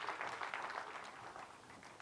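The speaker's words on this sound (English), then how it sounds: "A round of applause" Audience applause fills a room at a psychological illusionist's stage show: dense, steady clapping from a crowd, fairly loud and continuous throughout, with no talk over it.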